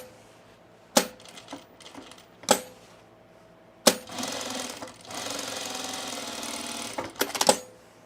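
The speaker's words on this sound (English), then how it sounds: "I'm going to double top stitch this." A sewing machine double top stitches a sunblock top, opening with sharp clacks and short bursts, then a sustained loud buzzing run of stitching for about three seconds before a few final clicks.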